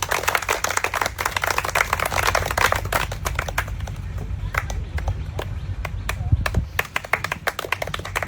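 An audience at a village banana-tree climbing contest claps in scattered, sharp bursts that thin out as the crowd settles, with voices talking underneath.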